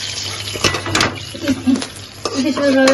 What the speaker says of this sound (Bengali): এই যে দেখেন সুন্দর করে কড়া করে ভাজছি